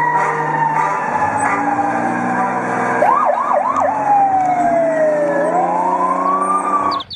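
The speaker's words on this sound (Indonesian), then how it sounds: "teman-teman, mobil pemadam kebakaran." A toy fire truck's electronic siren wails and warbles in rapid swoops, then glides in long tones, loud and close throughout.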